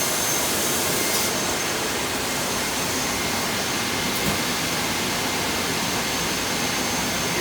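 A Dayco metal saw runs with its blade at about 1800 RPM, giving a steady, loud, continuous whirring roar that holds evenly throughout with no pauses.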